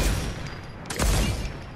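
Rapid bursts of video game gunfire fill the whole moment, dense and continuous with a louder volley midway, close and loud with no talk.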